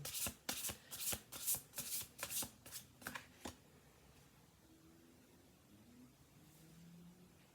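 Oracle cards being shuffled by hand, a rapid series of about a dozen crisp riffling flutters over the first few seconds, close and clear, then quiet room tone.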